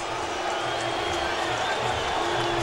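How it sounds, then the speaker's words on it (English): Baseball crowd at Dolphin Stadium during a 2009 World Baseball Classic game, Netherlands versus Venezuela, cheering for Magglio Ordonez: a steady, dense roar of distant voices sustained throughout at even loudness. "listen to the crowd now for Maglio Ordonez"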